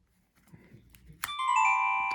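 Faint clicks and handling noise, then a sharp click as a mobile phone is opened, followed by a bright chiming electronic tone that rings steadily.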